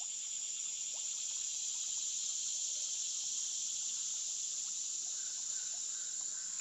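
Dense, continuous cricket chirping fills a quiet outdoor scene beside the Buffalo River, with a faint, steady wash of flowing water beneath and no talking.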